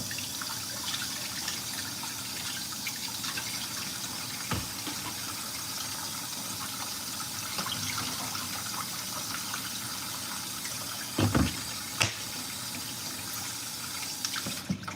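Beans being washed under running tap water at a kitchen sink: a continuous close gush of water with a few brief clatters and knocks.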